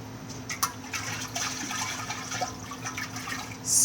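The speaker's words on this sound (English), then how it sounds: "Rinse my jar out." Water runs and splashes while a glass jar used for brewing kombucha is rinsed out, a steady near trickle with a few small splashes and a louder gush of running water at the very end.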